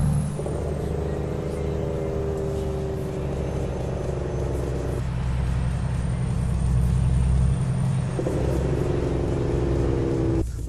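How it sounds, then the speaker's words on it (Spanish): Freightliner Cascadia truck in a trucking video game on a Mexican route map, a steady loud engine rumble with tonal drone throughout and brake or air hiss shifts partway, no talk over it. "Ahí está el freno, amigos, ahí está el freno"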